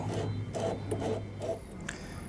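A plastic caravan sullage hose fitting is unscrewed, giving a few short, quiet rasping twists and scrapes close by with brief pauses between them.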